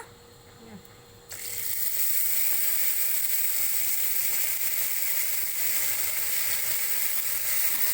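Ginger and cumin paste hits hot oil with cumin seeds, dried chili and bay leaf, bursting into a loud, steady sizzle that holds strong and even after a quiet start.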